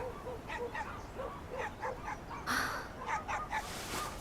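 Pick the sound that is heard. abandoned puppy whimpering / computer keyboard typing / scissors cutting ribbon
abandoned puppy whimpering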